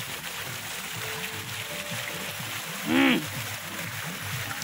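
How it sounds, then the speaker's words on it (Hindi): A waterfall and mountain stream near Kedarnath give a steady, close rush of flowing water throughout, with a brief murmured voice and a short whistle-like tone partway through. "वाटरफॉल है पूरा ये ऊपर से देखो"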